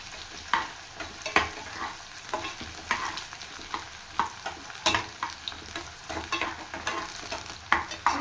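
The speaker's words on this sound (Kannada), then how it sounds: "ಸ್ವಲ್ಪ ಲೈಟಾಗಿ ಈ ರೀತಿ ಫ್ರೈ ಮಾಡ್ಕೊಳ್ಳಿ." Onions frying lightly in a pan, a soft sizzle broken by repeated stirring scrapes and clatters at an irregular rhythm, close by, with no talk over it.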